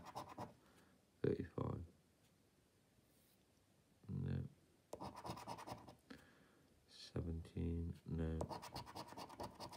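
A coin scratching £5 festive scratch cards, in short rough bursts of close, raspy scraping separated by pauses, with someone talking quietly between the strokes.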